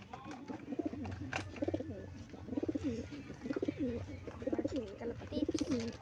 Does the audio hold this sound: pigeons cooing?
yes